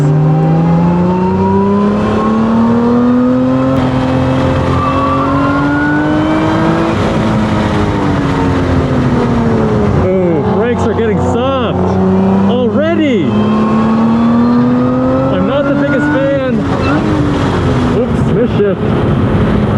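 A 2024 Lotus Emira driven hard around a race track, its engine loud and close, rising and falling through revs and gear changes with sharp throttle blips and wavering pitch, while someone talks over it.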